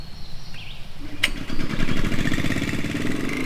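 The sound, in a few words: Landworks 7 HP mini wood chipper engine running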